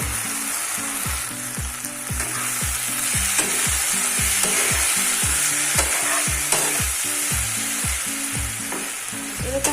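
An egg frying and being stirred in a pan for egg Maggi masala, a steady close sizzle with scraping strokes over a rhythmic pulse of background music, no talking.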